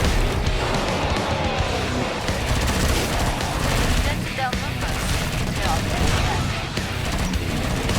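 Rapid, dense gunfire from the Killing Floor 2 video game roars without letup, layered bursts of automatic shots and blasts forming a loud, chaotic barrage throughout.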